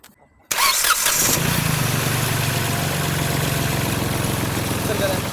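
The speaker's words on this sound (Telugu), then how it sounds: "ఒకసారి ఇంజన్ కూడా స్టార్ట్ చేస్తామండి" A used Hyundai Grand i10 car cranks and fires on the first try, then settles into a steady, loud idle that runs close by for several seconds.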